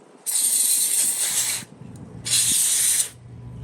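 Electrical contact cleaner sprays from an aerosol can onto the parts of an old Shopmate circular saw, two loud hissing bursts of about a second and a half each with a short pause between, alone and close.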